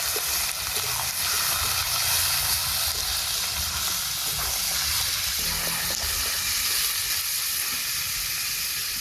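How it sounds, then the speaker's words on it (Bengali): Chicken pieces fry and are stirred in a pan without spices, a loud, steady hiss and sizzle with a strong steaming rush running throughout, close and unbroken. "কোনো মশলা ছাড়াই এখন নেড়ে চেড়ে ভাজবো"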